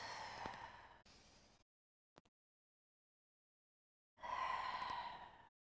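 Two strong, close exhalations during a foam roller exercise, a few seconds apart with near silence between them, and no talking.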